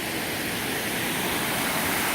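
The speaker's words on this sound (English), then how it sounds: "It's a circular waterfall." A circular waterfall in a natural setting gives off a loud, continuous rush of falling water that stays even from start to finish, with no voices or other sounds.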